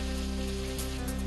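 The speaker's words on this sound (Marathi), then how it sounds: "सोलापूरच्या करमाळा शहरात वादळी वाऱ्यासह जोरदार पाऊस." Heavy pre-monsoon rain driven by strong wind pours over Karmala town in Solapur, a brief, steady, dense hiss with a low hum underneath and no voices.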